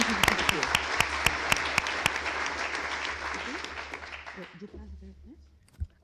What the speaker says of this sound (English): So let's one more round of applause for the university and Amical